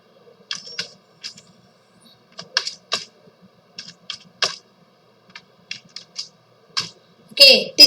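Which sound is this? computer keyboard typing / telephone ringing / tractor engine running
computer keyboard typing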